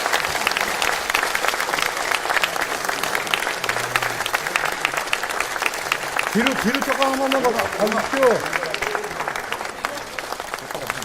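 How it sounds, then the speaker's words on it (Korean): An audience at a Korean presidential campaign event claps steadily for a bouquet presentation, under announcer talk, with a brief low voice partway through. "여러분 모두 박수"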